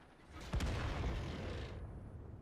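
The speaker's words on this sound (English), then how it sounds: "An excellent shot there by the enemy artillery" An enemy artillery shell striking and damaging tanks in World of Tanks, a single sudden booming impact followed by a rumbling, crackling decay over a couple of seconds.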